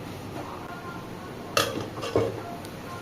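A couple of sharp clinks of utensil on plate as rice is served after cooking an oil-free pork curry, two brief knocks over a quiet room hum, no talking.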